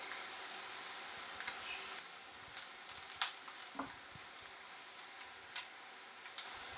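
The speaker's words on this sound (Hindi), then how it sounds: "अब ऐड करेंगे 1 टीस्पून कुटा लहसुन और इसको भी 1 से 2 मिनट फ्राई करेंगे।" A teaspoon of crushed garlic fries in a pan with a faint, steady sizzle and scattered small crackles and ticks, with no voices over it.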